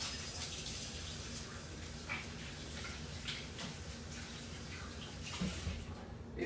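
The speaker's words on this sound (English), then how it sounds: "So let me wash my hands." Tap water runs steadily into a sink while hands are washed in a home kitchen, a soft continuous rushing splash with faint drips and movement, fairly quiet and even throughout.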